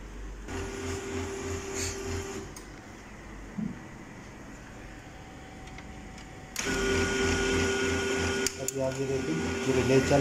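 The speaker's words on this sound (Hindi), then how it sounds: "अभी मैं प्रिंट दूंगा और वो उसका प्रिंटिंग आप देखिएगा।" An HP LaserJet 2035 laser printer with a sticking tray 2 solenoid runs in two bursts, a steady mechanical whir and feed rattle with relay clicks, interrupted by a quieter pause, while someone talks over it.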